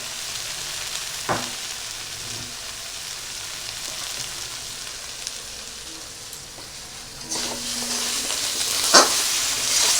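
Two garlic cloves fry in hot oil in a pan while mustard hilsa is cooked, making a steady, close sizzle broken by a few sharp clinks of a utensil, with no talking.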